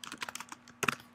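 Typing on a computer keyboard in the Mac Terminal app: a quick run of crisp, close keystrokes, a brief pause, then a sharper burst of taps, with no voice.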